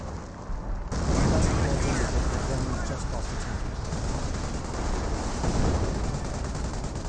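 A 25-pounder artillery barrage lands in the World War II strategy game Company of Heroes, a dense run of overlapping booms and rumbling blasts that starts abruptly and rolls on loudly.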